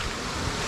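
A boulder-strewn creek in Royal National Park rushes steadily in a brief, continuous wash of water noise with no voices.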